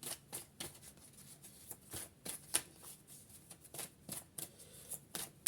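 Playing or tarot cards shuffled close up during a card reading, a steady run of soft riffling flicks and taps, fairly quiet, with no voices.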